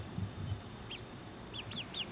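Young Easter Egger chickens about a month old make soft clucks and a few brief high peeps against a low, steady background hum, close to the microphone and fairly quiet.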